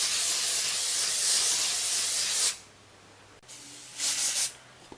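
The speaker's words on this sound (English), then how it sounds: "grab the hairspray and spritz it and pull it in place" Hairspray from an aerosol can spritzed onto a 1950s-style pinned retro hairdo, a loud continuous hiss lasting a couple of seconds, then a shorter second burst after a pause, close and clear with no talking.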